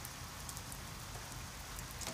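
Heavy rain falls in a rural village, a dense, even patter that stays steady and fairly soft throughout the short stretch.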